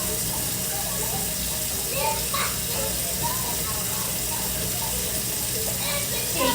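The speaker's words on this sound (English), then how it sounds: "while my water's filling up" Tap water runs steadily into a kitchen sink being filled for a baby's bath, a continuous close splashing hiss under occasional soft speech.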